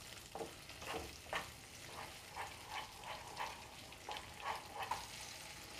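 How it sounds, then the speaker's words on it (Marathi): A ground masala paste sizzles faintly while being sautéed in a pan, with a soft frying hiss broken by repeated scraping and stirring strokes of a spoon. "आता हे वाटण चांगलं परतून घ्यायचं आहे."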